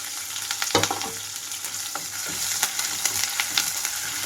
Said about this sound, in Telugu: తాలింపు గింజలంతా ఎర్రగా వేగిన తర్వాత కట్ చేసి పెట్టుకున్న ఉల్లిపాయలు అలాగే కరివేపాకు వేస్తున్నాను